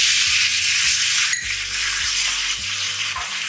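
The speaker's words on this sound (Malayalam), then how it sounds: "ഞാനിവിടെ 1/4 കപ്പ് മാത്രം വെള്ളം ചേർത്ത് കൊടുക്കുവാണ്" A quarter cup of water goes into colocasia frying in a hot pan for Kerala-style thoran, setting off a loud, close, continuous hissing sizzle that carries on throughout with a low hum beneath it.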